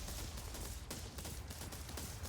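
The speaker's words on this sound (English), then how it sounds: "It also has a ship battle cannon." Rapid, dense cannon fire from a ship battle cannon in the building game Brutal Box, a continuous loud barrage of overlapping blasts with no pauses and no speech.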